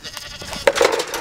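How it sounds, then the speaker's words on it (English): A small herd of eager goats crowds a farm gate, letting out a couple of short, close bleats over faint rustling. "It's a mob of angry goats."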